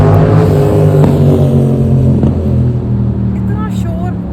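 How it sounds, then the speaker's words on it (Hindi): Loud motorbikes roar past on a street, a continuous heavy engine drone that swells and fades, with a voice faintly underneath. "इतना शोर मुझे बिल्कुल नहीं अच्छी लगती है बाइक्स जो इतनी शोर मचाती है।"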